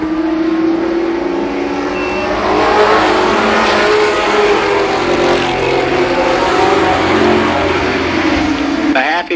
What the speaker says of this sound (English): He holds off Russ Bob and Bob Justice through turns 3 and 4.